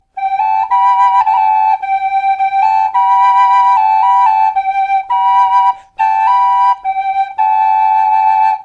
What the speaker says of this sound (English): You can just put them both in your mouth at the same time if you like.